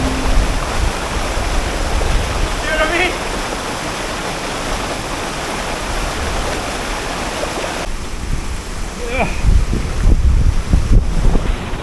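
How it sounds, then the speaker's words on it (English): Loud, constant rushing of the fast Molenaars River in a gorge fills the scene, a dense broadband roar with occasional splashes and rumbles of wind on the microphone. "Water's strong here."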